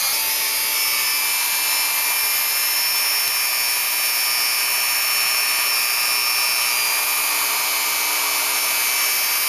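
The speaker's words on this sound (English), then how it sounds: "So that's how you do it with a Dremel." A Dremel rotary tool grinding open a motorcycle throttle sleeve, a steady high-pitched whine held without a break, close and loud, no voices.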